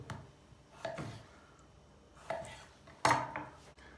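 A knife cuts a tomato into eighths on a board, giving a few separate soft knocks and taps with pauses between them, fairly quiet and with no talking.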